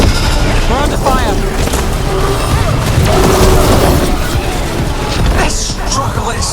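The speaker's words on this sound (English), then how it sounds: "We're under fire!" Gunfire and explosions in the video game Dragon Age: The Veilguard, loud booms and crashing blasts layered under continuous game music and shouted character dialogue.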